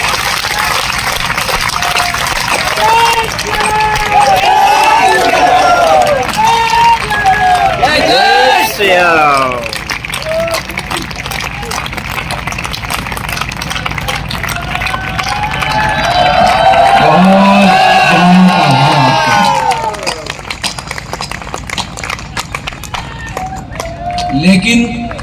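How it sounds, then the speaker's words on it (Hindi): Audience applause and cheering in honour of the humorous Hindi poet Dinesh Desi Ghee, a loud, sustained wave of clapping from a large crowd with scattered shouts and voices throughout. "दिनेश देसी घी के सम्मान में 1 मिनट तक ताली बजे।"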